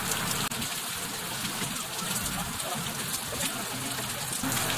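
Tilapia sizzling and spattering in hot oil in a pan, a steady dense crackle close by that holds even throughout, with no talk over it.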